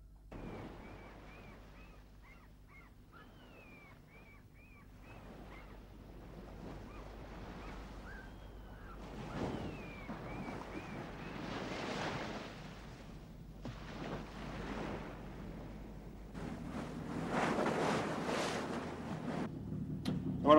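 Waves wash onto a beach in a soft, distant, rolling surf with wind, swelling louder toward the end, alone without talk, with a few faint bird-like chirps early on.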